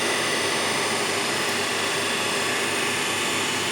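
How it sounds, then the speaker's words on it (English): A DC motor coupled to a separately excited DC shunt generator runs at about 1534 RPM, producing a loud, steady whirring hum without variation, close by and with no voices. "Now the motor starts rotating"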